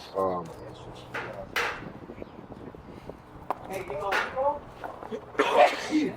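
A short sneeze near the start, followed by scattered soft clatter and rustling, a quieter throat sound, and muffled voices later on.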